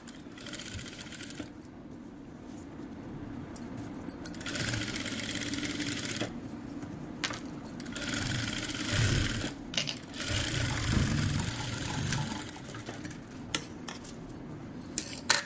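A sewing machine stitches a kurti neckline in steady whirring runs, pausing and restarting several times, with faint clicks and fabric handling between bursts, fairly quiet and close.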